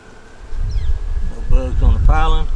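A swarm of honey bees hums steadily at close range while being shaken into an empty hive box, rising in intensity, with brief muffled handling noises mixed in.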